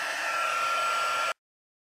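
An embossing heat tool blows hot air over a card, giving a steady loud whooshing roar for just over a second before it cuts off abruptly into silence.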